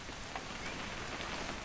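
Rain in the video game What Remains of Edith Finch, a steady, even wash of falling drops with no voices, heard close and constant for a brief moment.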